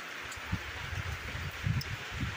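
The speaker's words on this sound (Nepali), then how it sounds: "हावा नि चल्न थाल्यो अहिले त यार" Wind gusts through tree leaves outdoors in the early morning, producing a soft steady rustle with a few low buffeting bursts against the microphone.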